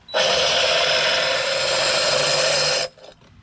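A loud, steady high-pitched whine of a diamond bit drilling through tile for nearly three seconds, then stopping abruptly.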